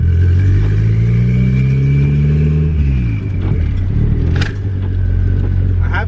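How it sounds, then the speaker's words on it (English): A B20V turbocharged Honda Integra engine pulls hard under acceleration, rising in pitch through a gear, then a brief dip at the shift before it resumes a loud, steady drone, close and filling the cabin. "this is a B20V Turbo Integra"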